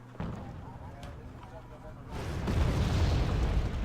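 M110 howitzer artillery firing in a combat video game, a few distant muffled booms followed by a broad swelling rumble of blasts, sitting under quiet background.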